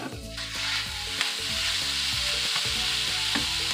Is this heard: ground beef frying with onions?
yes